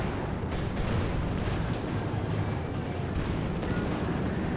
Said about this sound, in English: And another airstrike around the center.